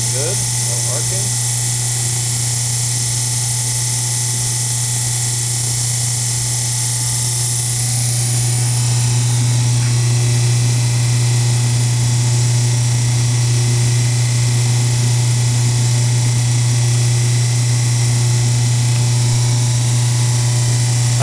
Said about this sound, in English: I let the motor run for about 10 minutes or so, bring it up to operating temperature.